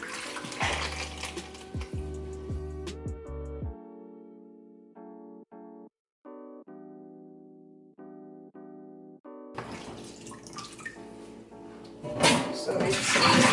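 Salted napa cabbage for kimchi rinsed in a colander under a running tap, with a steady rush of splashing water at the start and again at the end and a quieter tonal stretch in between.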